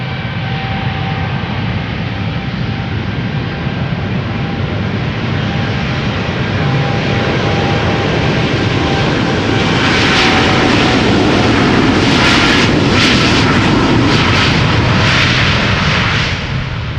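A KLM Boeing 787-10 Dreamliner at Schiphol Airport, its jet engines giving a loud, steady broadband roar that swells slightly toward the end, with no voices.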